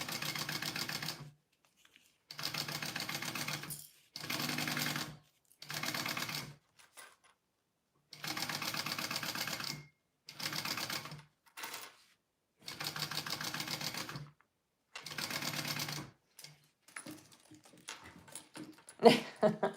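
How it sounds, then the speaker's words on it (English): Sewing machine basting down the exterior of a bowler bag, running in repeated bursts of steady stitching about one to two seconds long, separated by short pauses, close and fairly loud, with faint handling noises near the end. "I am just basting my exterior down first, and then I will add the lining at the full seam allowance."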